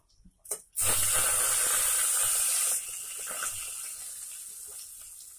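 Hot mustard oil left over from frying katla fish in a kadai hisses loudly after a short clatter, a sharp sustained sizzle that softens partway through and keeps fading.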